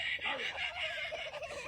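A rooster being taunted by a woman with a shovel on a farm, heard from a played clip: harsh, continuous fowl squawks and calls at moderate loudness, with no talking.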